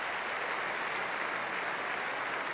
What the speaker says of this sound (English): this big crowd showing their tremendous appreciation for a job so well done